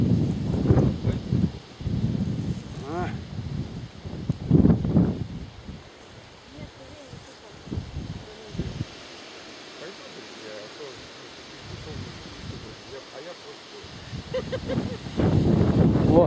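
Wind blows through poplars, rustling falling leaves in gusts, while people talk intermittently close by.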